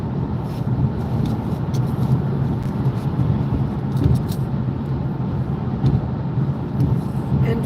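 Steady low road rumble and engine drone from inside a car driving a Colorado mountain route between Colorado Springs and Gunnison, with a constant even level throughout.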